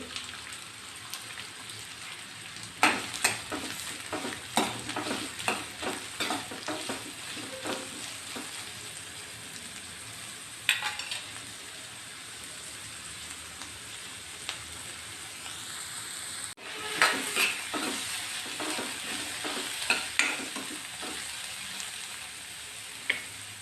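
Finely chopped onions frying in oil in a pan, a steady soft sizzle with scattered crackles and occasional stirring scrapes, close by and with no voices.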